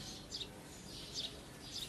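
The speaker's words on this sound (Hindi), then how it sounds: "मुझे चिड़ियों की आवाज भी अच्छे से सुनाई दे रही है" Birds chirp outside a studio in a city, with short high tweets repeating in small clusters, faint and distant over a soft steady background hush.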